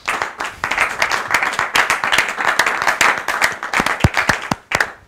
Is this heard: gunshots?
no